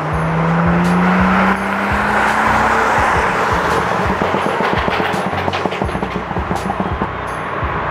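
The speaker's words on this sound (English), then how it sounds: "This thing burbles a really long time, actually." A BMW with a Bootmod3 tune roars loudly at close range as the revs drop, then settles into a long run of crackling, popping exhaust burbles.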